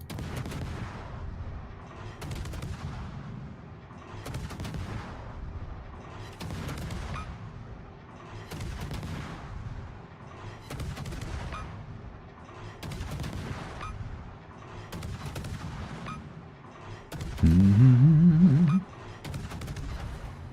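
Ship guns from a World of Warships battle fire in regular salvos about every two seconds, each a deep booming blast that rolls off, with a brief louder burst near the end.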